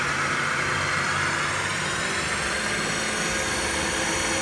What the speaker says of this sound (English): It's a 3 horsepower head with an R8 spindle, and we're going to run it for you.